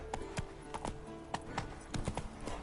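Geralt's horse Roach trots in The Witcher 3, with crisp, close hoof clip-clops falling in a quick, even rhythm on firm ground.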